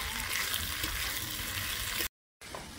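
A catfish and papaya curry is stirred while it fries in a pan, giving a dense, even sizzle close up. The sizzle breaks for a brief moment of silence near the end and then returns.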